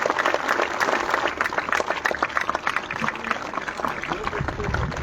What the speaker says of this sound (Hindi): एक बार जोरदार तालियां बजाएं बेटा